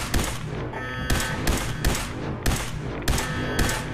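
Gunfire in the video game Fallout 4: a quick series of loud, sharp shots at a fairly even rhythm, each followed by a short echoing tail, with no voices.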